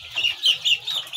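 Young chicks, about two weeks old, chirp and cluck in a few repeated close bursts, with no one talking.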